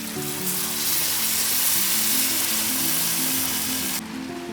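Yogurt poured into hot oil with fried garlic and ginger for a buttermilk curry sets off a loud, steady hissing sizzle that swells after the first half-second, then drops off abruptly near the end.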